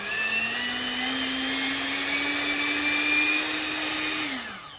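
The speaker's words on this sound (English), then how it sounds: "my electric mixer is just wild. Like, it just goes off, like, when it first starts" An electric mixer whirs steadily at a high, constant pitch for several seconds, loud and close, then winds down as it switches off near the end.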